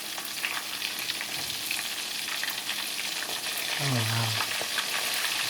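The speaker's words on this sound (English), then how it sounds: "I'm going to let that simmer just a little while longer" Pollock coated in almond flour fries in a pan, with a loud, steady sizzle close by and a brief spoken exclamation near the end.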